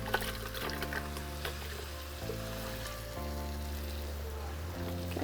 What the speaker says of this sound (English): Into my blender cup, I'm going to add about 3/4 of a cup of water.